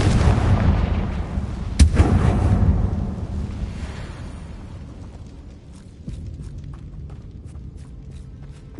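A Confringo fire spell cast in the Hogwarts Legacy video game gives a loud burst of blasting, rumbling fire with a sharp crack near two seconds, then fades into quieter clicks and crackles.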